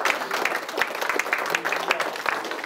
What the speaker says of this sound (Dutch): ik zou heel graag een groot applaus willen ook voor Mia